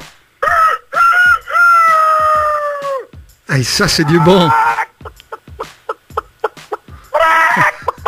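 A voice imitates a rooster crowing with long rising calls, then mimics hens clucking in short bursts, followed by a brief spoken remark.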